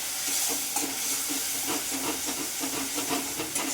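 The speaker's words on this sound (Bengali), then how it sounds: "মশলাটা ভালো করে কষে নেব" Cumin, chili and turmeric powders sautéing in a pan for a brinjal and tangra fish curry, a soft continuous sizzle and hiss with faint stirring scrapes, fairly quiet and steady throughout.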